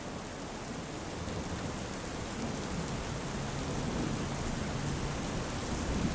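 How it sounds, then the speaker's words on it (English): Rain falling steadily outdoors, a dense hissing wash of drops that holds even and slightly swells over several seconds, with a faint low rumble and no voices. "Well, I did not expect it to rain today."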